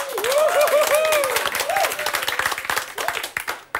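Audience applause at a French televised cabaret show, a dense patter of clapping throughout, with a wavering voice-like tone riding over it early on before the applause thins toward the end.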